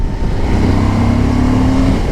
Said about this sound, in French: On entend bien le bruit de boîte à air.